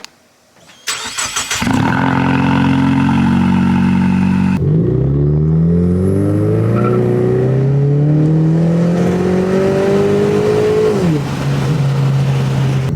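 A Ford Mustang EcoBoost engine starts with a sharp catch, then revs loudly and steadily climbs in pitch over several seconds before dropping back to a strong idle, close and alone with no talking.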